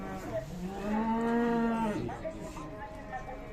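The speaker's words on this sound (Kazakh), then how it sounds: "О, кімдікі екен симментал?" Simmental cattle at the Sokuluk livestock market give a single drawn-out moo of about a second, fairly close and clear, with quieter market murmur before and after.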